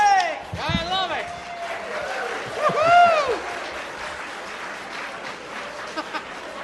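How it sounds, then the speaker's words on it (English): A club audience at a Roaring Twenties revue applauds as the show opens. The dense clapping is mixed with excited whoops and cheering voices, swelling and then settling into a steady patter. "We won't hold for applause the rest of the evening"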